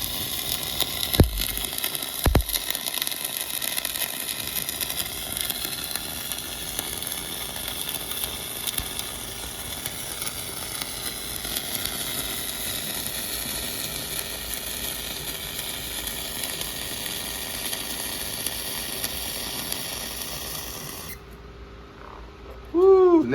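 Arc welding a bead with little spatter, a steady, even crackling sizzle that runs close and continuous for about twenty seconds before stopping abruptly, followed by a brief voice.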